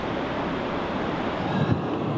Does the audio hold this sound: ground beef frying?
no